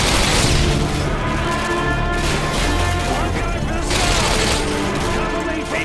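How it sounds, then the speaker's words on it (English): Grenade blast and surrounding combat noise in the video game Call of Duty Modern Warfare 2, dense booms and gunfire rolling continuously and loudly, with a shouting voice mixed in. "grenade!"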